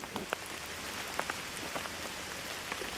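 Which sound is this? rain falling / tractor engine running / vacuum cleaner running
rain falling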